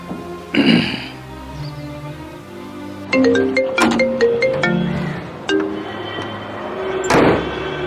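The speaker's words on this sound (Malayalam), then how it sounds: "എന്നാ ഞാനൊന്ന് വിളിച്ചു നോക്കട്ടെ" A phone ringtone plays as a call is placed, a clear melodic chime pattern that starts after a couple of thumps and repeats over several seconds, close and fairly loud.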